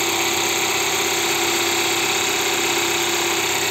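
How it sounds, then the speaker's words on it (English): A Mazda MX-5 engine with 14,000 miles idles steadily, a constant, even hum with a low vibration and no knocking, heard alone. "No nasty noise from the engine."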